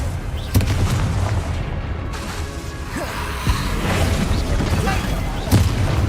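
A Bombarda spell blast from the Hogwarts Legacy video game, heavy booming explosions and crashing impacts rolling continuously under loud game combat noise.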